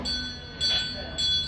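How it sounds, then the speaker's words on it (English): An old-fashioned period doorbell at a hotel in Southport rings three times in a steady rhythm, each strike bright and ringing, fairly close and clear. "It's a period doorbell."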